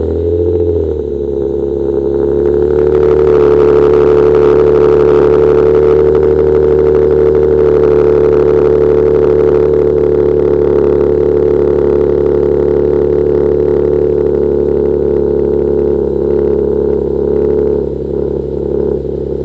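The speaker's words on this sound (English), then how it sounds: "Now this would not be a Sway Tech video if I do not start out with the obligatory cold start." An Infiniti G37 cold start: the engine catches with a brief rising flare, then settles into a loud, steady idle with a deep harmonic hum that holds evenly to the end, no voices over it.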